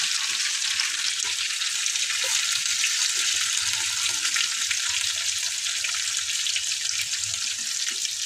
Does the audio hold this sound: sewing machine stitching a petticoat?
no